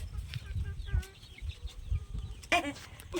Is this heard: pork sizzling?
no